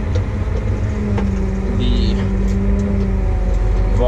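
A pickup truck pulls away on a farm during harvest, its engine rumbling steadily and close with a low, continuous drone throughout, while a voice briefly speaks over it.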